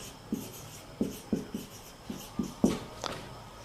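Chalk or marker writing on a board during a chemistry lecture, heard as a series of soft, close taps and strokes in an uneven rhythm with no talking.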